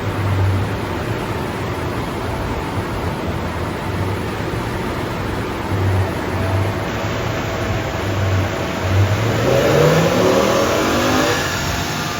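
BMW M6 with a V10 engine on a dyno during warm-up runs, a loud sustained engine drone that climbs in pitch as it revs up near the end, with no talk.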